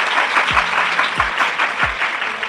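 A church congregation applauds loudly in thanks to God, a close, full burst of many clapping hands, punctuated by three brief low thumps at regular intervals.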